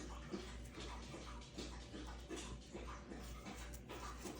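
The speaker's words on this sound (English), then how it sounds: "Can you hear my dog drinking?" A thirsty, overheated dog laps water with wet repetitive slurping, steady and close up, over a constant low hum with no talking.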